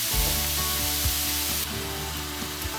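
Italian pork sausage sizzles in a pan, a bright steady hiss over a low humming background, with a few soft knocks as it cooks.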